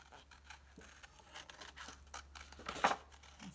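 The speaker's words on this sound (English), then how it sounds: "Let me cut this out." Scissors snip through junk mail paper at close range in a few quick, quiet cuts, followed by a louder crinkling snip near the end.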